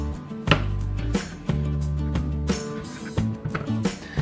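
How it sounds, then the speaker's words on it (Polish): A knife cuts well-washed, skin-on potatoes into roughly even pieces on a board, with several distinct thuds spaced about a second apart over a steady background hum. "Ziemniaki dobrze umyte, kroję sobie w równe, mniej więcej równe kawałki."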